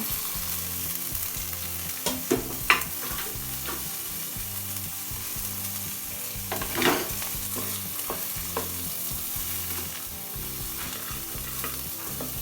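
Beetroot pieces fry in a pan with softened onion and green chillies, keeping up a steady sizzle under repeated scraping stir strokes, close and continuous, with occasional louder clatters of the spoon.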